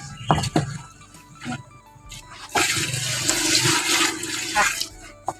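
Water is poured into a container over chopped banana stalk to make fermented bio-fertilizer. After a few light clunks and knocks, a loud, rushing gush of water runs for about three seconds.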